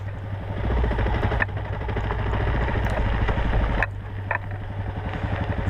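A motorcycle is ridden over a mountain pass, its engine droning steadily and fairly close, with wind noise and a few brief rattles and knocks over the ride.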